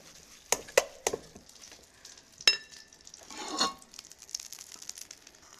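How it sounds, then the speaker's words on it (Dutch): Chicken meatballs sizzle steadily in a hot pan, broken by a few sharp clicks and the scrape of stirring, close up and with no talking. "ik ga ze hier bakken"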